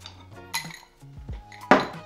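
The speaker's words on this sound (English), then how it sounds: "Throw in some fresh ice cubes in there." Fresh ice cubes dropped into a tumbler glass, a few bright clinks and knocks in quick succession ending in one louder clatter, close and without talk.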